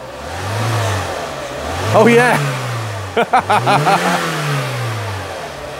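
A K11 Nissan Micra petrol engine is revved three times in rising, falling sweeps close by, after new fuel is added to a drained tank. A person speaks briefly over the engine.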